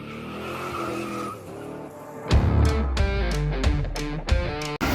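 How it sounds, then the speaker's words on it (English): A 1982-1992 Firebird or Camaro engine runs nearby, a soft hum that breaks into a series of sharp, rising, squeal-like revving bursts, loud and close. "ignore the engine running"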